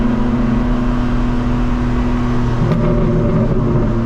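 A modified 2024 BMW M4 Competition rumbles with a deep, steady engine and exhaust drone, loud and close from inside the car, with a faint brief crackle near the end and no talking.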